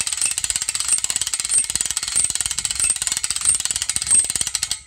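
Hand-cranked winch on a log arch: a steady, rapid ratcheting click from the pawl, loud and close, continuing throughout with slight surges in rhythm and no talking.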